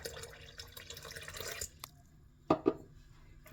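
Cold water splashes into a Philips electric kettle in two short gurgling bursts, close and fairly quiet, following faint running water.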